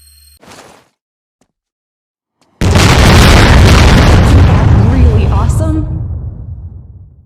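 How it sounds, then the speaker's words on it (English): Satellite Strike psionic explosions in the game Line of Sight: after a brief quiet lead-in with a small pop, one loud, sudden boom bursts out and rolls on with crackling debris, slowly fading over several seconds. "Try to annihilate all targets using Satellite Strike."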